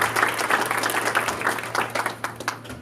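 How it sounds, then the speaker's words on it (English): Audience applause at a Louisiana higher education forum for a professor, a dense continuous wash of many hands clapping that swells and thins slightly over a few seconds, with a steady low hum underneath. "let's give Professor Sonia Hester a round of applause"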